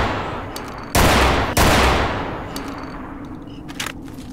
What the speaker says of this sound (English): This is a fucking awesome shotgun.